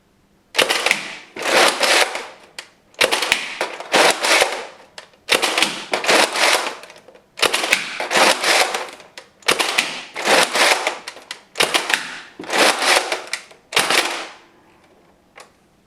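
A NERF N-Strike Elite Mega Centurion blaster fires darts down a 20-foot indoor hallway: about seven loud, close bursts of mechanical clatter, each with a sharp firing crack, spaced by short pauses as the blaster is worked between shots.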